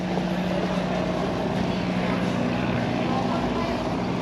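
Steady, loud engine drone and rushing water noise aboard a ferry crossing from Cebu to Bohol, with a constant low hum running throughout.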